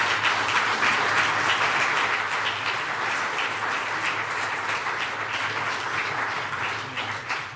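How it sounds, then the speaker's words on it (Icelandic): Warm, sustained applause from a town-hall audience in Húsavík, dense even clapping close and loud throughout, slowly thinning toward the end with no talking. "Það full ástæðst að klappa vel fyrir Eddu Sif."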